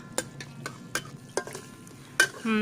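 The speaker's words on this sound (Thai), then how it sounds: "เราก็จะใส่เนื้อหมูลงไปนะคะ ล้วก็ผัดจนเนื้อหมูนะคะสุกดีเลยนะคะ" Pork stir-fried in a pan with homemade curry paste, a few sharp scraping strokes of a spatula against the pan at intervals over a low background sizzle, with a louder scrape near the end.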